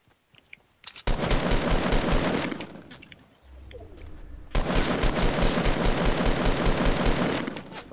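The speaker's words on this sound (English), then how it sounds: "Fuck, I'm getting shot from the west." Loud, rapid automatic gunfire from the Fortnite video game comes in two long sustained bursts, separated by a brief lull with a few scattered shots.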